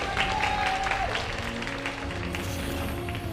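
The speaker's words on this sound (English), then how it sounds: "Hearty applause there for aLive." A crowd applauds steadily at a StarCraft 2 esports match at SSL 2016 Season 1, aLive versus ByuN, with dense, continuous clapping throughout and a faint hum in the background.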